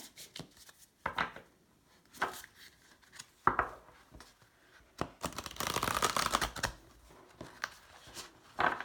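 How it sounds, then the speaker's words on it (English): Cards from an Animal Spirit Guide deck are shuffled and pulled, giving crisp riffling snaps and papery slides in uneven bursts, with a longer flurry of shuffling near the end; close and fairly quiet, no speech. "I'm just going to pull a card from the Animal Spirit Guide deck."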